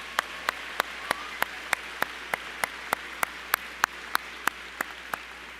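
A secondary school commencement audience applauds for the staff. One sharp, close clap repeats at a steady even beat over a softer wash of distant clapping from the crowd.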